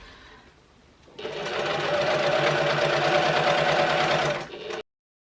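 An HD9 sewing machine top stitches a leather-style clutch wallet at a 1/8-inch seam allowance, starting after a quiet second and running in a steady, fast mechanical chatter for about three and a half seconds before stopping.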